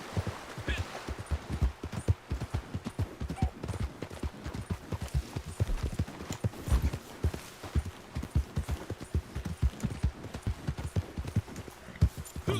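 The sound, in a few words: horse hooves clip-clop in video game Red Dead Redemption Online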